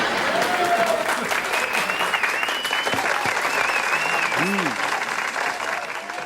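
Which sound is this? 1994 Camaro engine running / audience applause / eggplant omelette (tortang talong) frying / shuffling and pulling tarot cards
audience applause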